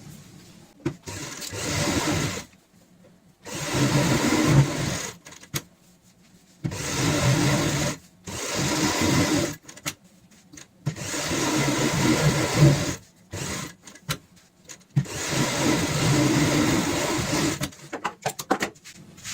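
A domestic sewing machine stitches a designer cushion cover in repeated bursts of a few seconds each, separated by quiet pauses, close and clear with no voices.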